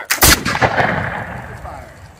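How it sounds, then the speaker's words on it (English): A single sharp musket volley cracks out at a War of 1812 reenactment at Fort Jackson, a loud close blast followed by a fading rumble and echo. "Make ready. Take aim. Hold your ears. Fire."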